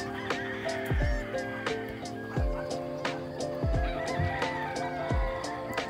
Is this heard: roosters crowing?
yes